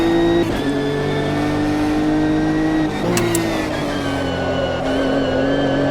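A racing car in Automobilista 2 with traction control off, its engine holding a loud sustained drone that dips and rises through a gear change, with tire noise underneath.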